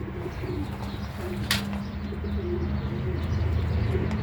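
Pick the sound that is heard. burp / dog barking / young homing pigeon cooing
young homing pigeon cooing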